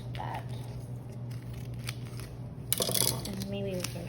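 Scissors snip through a felt presentation board, a short sharp cut heard up close and fairly quiet, while a person talks throughout.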